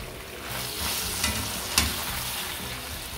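Cooked vegetables and onion tipped into a pan of sizzling diced beef, a continuous close frying hiss with a couple of sharp stirring clicks, no talking.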